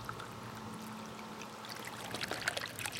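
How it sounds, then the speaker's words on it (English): A bubbler fountain's small solar pump hums faintly from its impeller beneath steady flowing, trickling water, with light splashes near the end. "It does have a little noise associated with the impeller."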